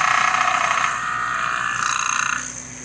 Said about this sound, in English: Pump is pumping.